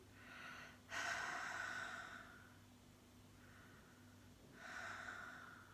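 A person breathes through the mouth with the lower jaw pulled down toward the chest, two loud airy inhales or exhales separated by a quieter breath, close and intimate with no speech.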